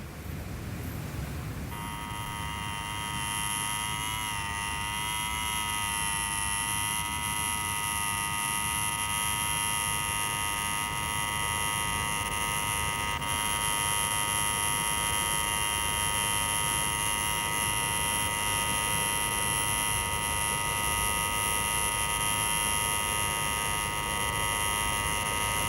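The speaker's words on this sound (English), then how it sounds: "Take your finger off that bleeding buzzer" A buzzer held down without a break drones on loudly and steadily for about 25 seconds, a harsh electric tone that never stops.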